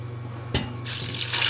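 Water poured from a tap into a pot for a cinnamon, clove and ginger syrup, starting with a brief splash and then a loud steady hissing stream that grows fuller.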